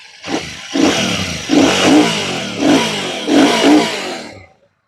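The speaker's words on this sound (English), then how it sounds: "let's turn on the motorcycle. This is idle, of course" Royal Enfield Shotgun 650 parallel-twin motorcycle engine revving from idle, four loud throttle blips rising and falling in a near, close-miked burst before cutting off.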